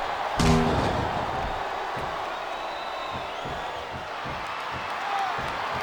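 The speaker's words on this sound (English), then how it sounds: "It sounds like this capacity crowd has something on their minds, Taz." A large arena crowd in the wrestling video game WWE SmackDown vs. Raw 2007 murmurs and roars in a constant wash of noise, with a sharp slam or thud near the start.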